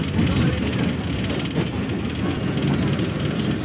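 Train rolling along rails on a journey between stations, a steady dense rumble throughout with faint rhythmic clatter, heard continuously and fairly loud from inside the carriage.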